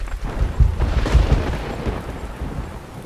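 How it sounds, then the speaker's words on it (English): Thunder rumbles deep and heavy over pounding rain at a woodland cabin, with a few low booming rolls that fade into a steady wash of rainfall. "thunder shaking the windows"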